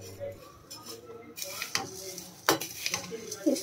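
Chura (flattened rice) roasts in a pan, with a spoon scraping and clinking against the metal in irregular stirs and a soft sizzle beneath, close up.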